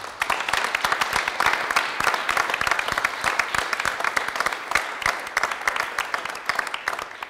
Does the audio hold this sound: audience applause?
yes